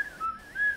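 A woman whistles along to a song off-key, with a short wavering run of thin whistled notes that slide up and down, close and alone.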